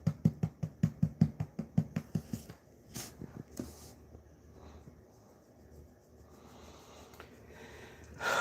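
A rapid series of sharp nasal sniffs, close and rhythmic, followed by a few slower sniffs and quiet breathing.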